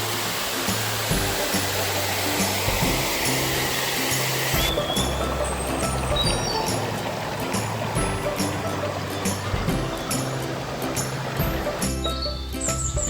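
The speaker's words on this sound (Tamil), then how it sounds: "இந்த அருவி சத்தம் தான் என் காதில் அங்கே விழுந்துச்சு" A waterfall at Ponmudi hill station in Kerala roars as a loud, continuous broadband rush, close and steady throughout, with faint irregular clicks over it.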